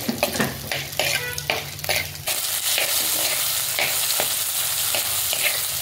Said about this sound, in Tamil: ஒரு தக்காளியை கட் பண்ணி இதில் சேர்த்துடலாம். நல்லா வணக்கிடலாம்.